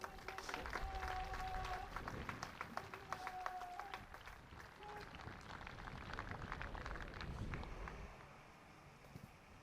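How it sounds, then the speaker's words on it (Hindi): Spectators at an outdoor demonstration by trained dogs from a national dog training centre give scattered, uneven applause, sparse claps mixed with wind buffeting the microphone and distant background noise. "आइए हम इनके इस काम को, इस प्रदर्शन को अपनी तालियों से सराहें।"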